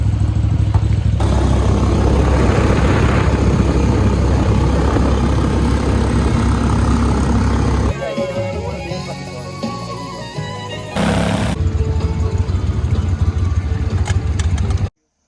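A steady, loud boat engine idles close by with a low rumbling drone, dipping and shifting briefly midway before returning to a constant throb.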